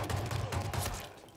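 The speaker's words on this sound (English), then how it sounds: "That was a gunshot." A few sharp gunshot bursts go off in quick succession in the Hitman VR video game, close and loud with a thudding low end.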